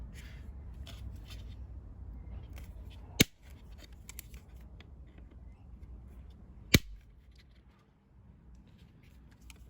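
Two sharp, isolated snips as side cutters bite through a plastic cover section on a dual battery kit installation in a VW Amarok tub, spaced a few seconds apart over quiet background.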